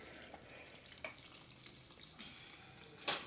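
Water runs from a kitchen tap in a home, a faint steady hiss with a few soft splashes as it falls into a vessel, with no talking.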